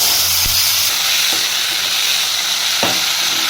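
Peas tempered with cumin and red chili powder fry in a hot pan, giving a steady loud sizzle and hiss with a few soft stirring knocks, close by and alone.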